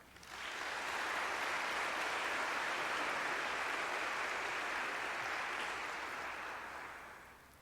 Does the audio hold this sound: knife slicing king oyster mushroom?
no